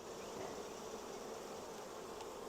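Honey bees buzzing while a beehive is split: a dense, steady swarm drone, close and continuous with no voices.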